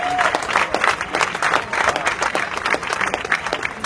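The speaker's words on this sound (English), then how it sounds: "Please give our sister another round of applause." A crowd at a Black Lives Matter rally outside Springfield City Hall applauds a speaker, dense clapping close and loud throughout, with scattered cheers mixed in.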